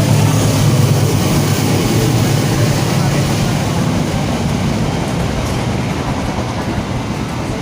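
A train rolls along a railway beside a car workshop, giving a steady, loud rumble of wheels and carriages that fills the whole stretch without a break.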